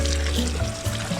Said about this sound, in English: I'm giving them a good wash in salt water